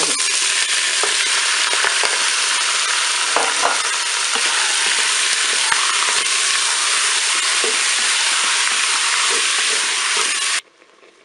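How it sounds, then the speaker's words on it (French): Beef pieces sear loudly in a preheated Cookeo multicooker, a steady dense sizzle and hiss with a few pops that holds unbroken for about ten seconds, then cuts off abruptly near the end. "Le préchauffage est terminé, je vais pouvoir ajouter mes morceaux de viande."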